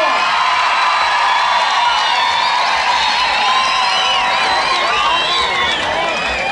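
A large rodeo crowd at a bull-riding tournament cheers, whistles and applauds loudly and continuously, with shouts rising over the steady roar throughout.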